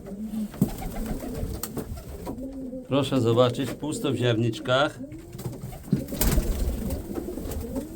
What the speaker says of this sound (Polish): Ale już gołębie wyją